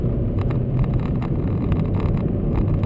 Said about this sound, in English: a throaty engine